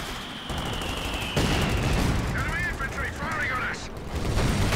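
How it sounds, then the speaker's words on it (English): An infantry support gun fires at a mortar pit during a Company of Heroes 2 battle, its thumps mixed into steady gunfire and a commentator's voice. "Infantry support gun trying to target the mortar pit, it looks like."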